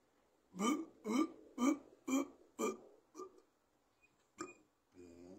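A run of five loud, deep burps in quick succession, followed by a few smaller belches and hiccup-like sounds, heard close and with no speech.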